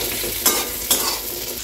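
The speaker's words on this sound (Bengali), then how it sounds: "আগে একটু পেঁয়াজ আলুটা ভাজা হয়ে যায়" Onions and potatoes fry in a pan with a loud, steady close sizzle, interrupted by two quick stirring scrapes.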